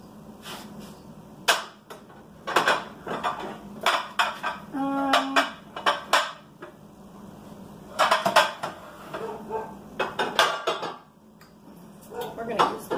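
A large casserole dish being taken out and handled in a home kitchen, with scattered clanks and clinks of ceramic and metal cookware, louder bursts separated by short lulls, and some talk and a cough in between.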